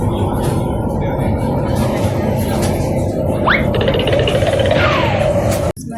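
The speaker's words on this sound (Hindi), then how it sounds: "मेट्रो आ गई है और अब हम चलते हैं इसमें।" A metro train pulls into a station with a loud, continuous rumble, rising brake squeals and screeches near the end, then an abrupt cut in the noise, under a busy platform din.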